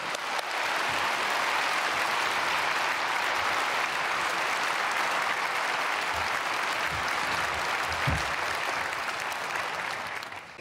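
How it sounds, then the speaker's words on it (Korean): A church congregation at a Wednesday prayer service at Myungsung Church in Korea gives sustained, even applause welcoming a pastor, a dense wash of clapping that holds steady and trails off at the end. "박수로 맞이하겠습니다."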